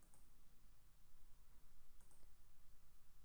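Faint, sharp computer mouse clicks on a volunteer check-in/out program, a single click near the start and a quick double click about two seconds in, over a quiet room hum.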